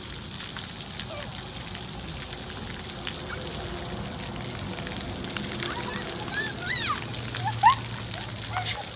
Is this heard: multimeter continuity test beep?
no